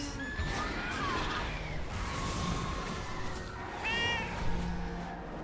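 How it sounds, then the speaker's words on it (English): In the video game World of Warcraft, a cat meows a few times, short high cries at moderate loudness over a low ambient game background. "I heard a cat."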